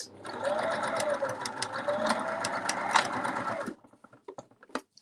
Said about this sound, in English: I'm going to sew as well along the bit that was opened to meet the end where I started